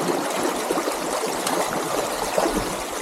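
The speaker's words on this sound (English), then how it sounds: "Little waterfalls." Water rushes and splashes continuously over rocks, a steady close-up babble of small falls with no voices.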